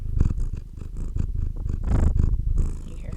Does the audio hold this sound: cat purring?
yes